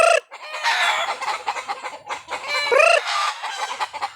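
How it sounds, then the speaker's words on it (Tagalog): Several chickens cluck and squawk in a lively, uneven series of calls, near and fairly loud, with one rising crow-like call partway through and no talking. "So, tulad ngayon, pumuputak sila."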